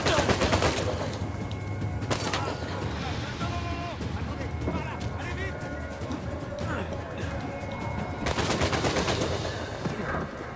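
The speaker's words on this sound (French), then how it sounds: "Ça tire de partout." Gunfire coming from all directions in Uncharted 4, set in a Spanish prison: loud bursts of automatic fire and single shots repeating throughout, heaviest at the start and near the end, with a player speaking French over it.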